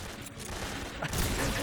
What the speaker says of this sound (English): All these gunshots aren't killing me?